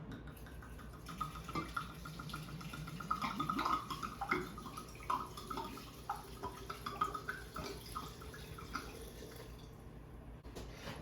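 Bogle Cabernet Sauvignon red wine poured into a sangria mix, a steady soft trickle and splash of liquid heard alone at close range.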